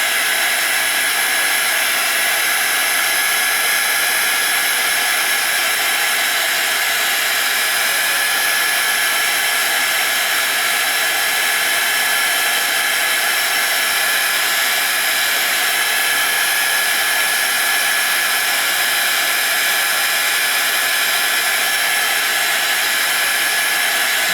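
Heat tool or dryer blowing over sprayed ink on a small ATC art card, a constant loud whirring hiss that holds steady throughout with no talking.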